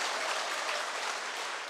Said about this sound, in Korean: 여러분 박수 좀 쳐주세요.